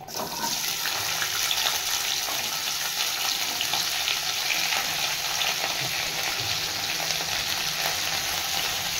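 Hot oil frying in a home kitchen while cooking: a loud, steady, hissing sizzle starts abruptly and holds evenly, close and unbroken, with no talking.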